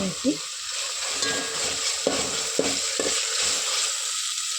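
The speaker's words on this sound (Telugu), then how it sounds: "పచ్చిమిర్చి వేసి వేగనివ్వాలి కొంచెం పెద్దగా" Green chilies fry in a pan with a bright, steady sizzle and hiss, punctuated by a few sharp stirring scrapes and pops.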